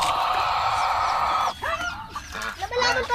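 A rooster gives a long, loud crow up close, then breaks into a few shorter clucks and calls over faint background noise.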